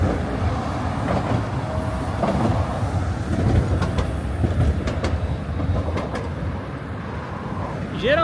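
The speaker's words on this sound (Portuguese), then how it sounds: "Aqui em Hiroshima tem esse tipo de trem" Surface train rolling past in a Hiroshima street, a steady rumble with faint clicks and a brief squeal near the end, heard from close by outdoors amid city noise.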